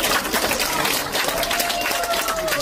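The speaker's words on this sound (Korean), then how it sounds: "여러분 박수 한번 주십시오." Audience applause at a lecture hall talk, a steady dense wash of clapping with light crowd murmur throughout, no clear voice on top.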